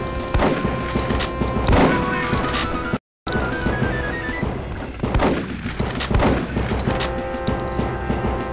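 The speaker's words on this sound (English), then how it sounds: "for some reason I love using this shotgun" A shotgun fires repeatedly in the Sega-era platformer Kid Chameleon, giving sharp, loud blasts over busy game music and effects, with a brief dead silence partway through.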